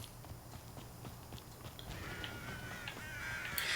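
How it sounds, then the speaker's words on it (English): Crows caw faintly in the distance in the game Hogwarts Legacy, set in the Scottish Highlands, while soft, steady clip-clop footsteps sound underneath; the cawing grows a little louder toward the end. "Every time I hear those crows crowing"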